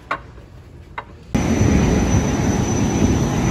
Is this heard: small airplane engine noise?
yes